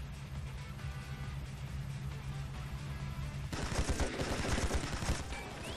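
Rapid gunfire in a shootout at a cold storage warehouse in the game AI: The Somnium Files, a dense burst of shots that grows louder partway through over a low mechanical hum.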